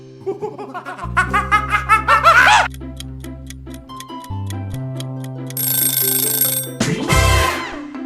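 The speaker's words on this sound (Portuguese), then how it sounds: "Um macaco." A monkey gives a run of rapid, rising hoots and chattering calls that build to a shrill peak, followed by ticking music and bright chimes.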